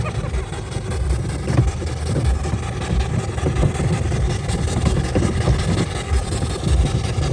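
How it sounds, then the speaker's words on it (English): A large steam traction engine rolls into a vintage steam rally, its steady rumbling engine noise continuous and fairly loud against outdoor wind and crowd ambience. "see we've got another one of the bigger engines, traction engine just coming in now"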